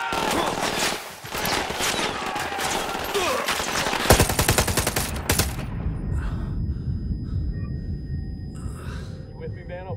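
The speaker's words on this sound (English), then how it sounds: "Opening fire." Gunfire erupts in the video game Ghost Recon Wildlands: loud, dense automatic bursts rattle for several seconds, then fade into quieter background combat, with voices talking over the fighting.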